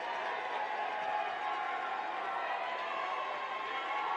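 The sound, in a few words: basketball crowd cheering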